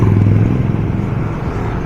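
Motorcycle rolling slowly through a flooded road at high tide in Hagonoy, Bulacan, a close, loud low engine putter with a rough rumbling texture that eases slightly over its short run.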